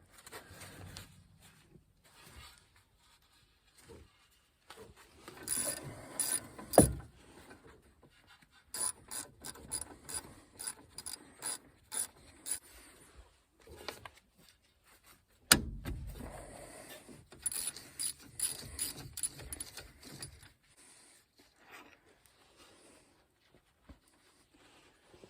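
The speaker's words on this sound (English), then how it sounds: "Use your 10mm wrench and undo this top and bottom bolt." A 10mm ratcheting wrench undoing the top and bottom brake bolts on a Dodge Ram 1500: bursts of close, quick ratchet clicks separated by quiet pauses and a few clunks, with no talk.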